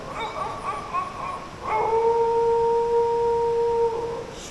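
A person's voice imitates a dog, giving a few short whimpering yips and then one long, drawn-out howl that sounds far away.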